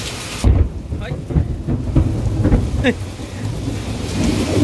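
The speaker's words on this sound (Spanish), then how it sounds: "Y también hay granizo, pero chiquito." Heavy rain pounds down with small hail mixed in, while several rolls of thunder rumble loudly and close throughout; a voice briefly exclaims.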